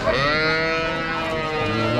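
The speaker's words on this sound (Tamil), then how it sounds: "வண்டி நிற்கிற இடத்துல பார்த்தீங்கன்னா ஃபுல்லாக மாடு இன்னும் நிற்கிதுங்க இன்னும் அந்த பக்கம் மாடு இன்னும் நிறைய இருக்குது" Cattle at a livestock market in Vaniyambadi, a single long, drawn-out moo or bleat-like call, loud and near, over a busy outdoor background.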